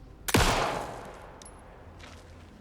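A single loud gunshot cracks out in the video game Alan Wake II, its sharp report followed by a long decaying echo and a few faint clinks afterward, with no speech.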